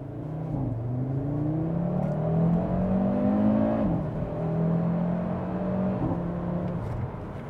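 A 2022 Audi RS 3 engine accelerates from inside the car, its tone rising steadily through gears with dips at shifts, loud and continuous with no talk.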